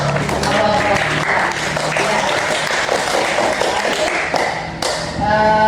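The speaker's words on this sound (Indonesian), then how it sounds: "kasih tepuk tangan dulu" A classroom group of students claps hands together in sustained, dense applause, loud and close, continuing steadily with faint voices mixed in.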